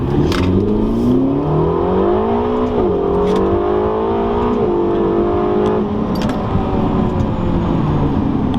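A loud 2016 Ferrari California T engine pulls hard, its rising harmonic whine climbing through the gears with brief dips at each shift, continuous and close.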